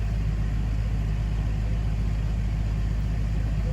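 A tractor engine idling on a farm, a steady low rumble holding evenly throughout with no speech over it.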